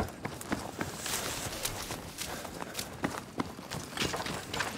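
Steady footsteps walking on open ground in Battlefield V, soft and fairly close, with an even stepping rhythm over faint ambient background noise.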